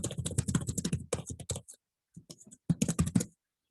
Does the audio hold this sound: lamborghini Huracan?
no